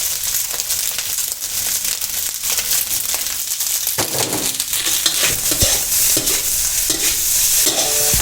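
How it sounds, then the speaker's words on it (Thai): Chinese sausage fried rice with green onions stir-fried over high heat, a loud continuous sizzle with rapid rustling, crackling tosses and scrapes of a spatula in the pan, close and without talk. "เร่งไฟแรงแล้ว เราจะตามด้วยต้นหอมนะครับ ใส่ต้นหอมไปเลยครับ"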